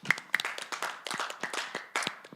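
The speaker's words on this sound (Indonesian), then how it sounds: "Tepuk tangan untuk Tuhan Yesus." A church congregation claps along in a steady rhythm of sharp, distinct hand claps, loud and close, with a few accented beats and no talking over it.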